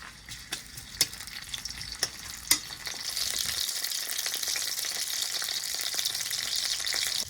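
Greens fry in hot oil in a pan, with sharp stirring clicks and taps over the first few seconds before a steady, louder sizzle takes over.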